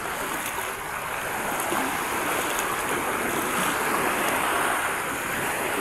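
Waves lap and wash steadily around a small paddled fishing boat whose engine has broken down, a soft, continuous surf-like rush with light wind and no voices.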